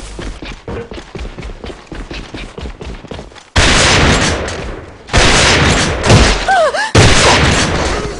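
Gunshots in the AVA first-person shooter game, loud and close, with rapid bursts of gunfire followed by heavier sustained volleys and blasts, nearly continuous throughout.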